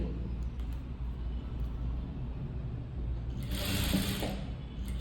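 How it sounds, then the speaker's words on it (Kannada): A sewing machine stitches the front of a blouse, running steadily with a continuous whirring hum and a brief brighter burst near the end, close by with faint background noise. "ಮೇಲುಗಡೆ ಹಾಫ್ ಇಂಚ್ ಬಿಟ್ಬಿಟ್ಟು ಸ್ಟಿಚ್ಚನ್ನು ಹಾಕ್ಕೊತಾ ಇದ್ದೀನಿ"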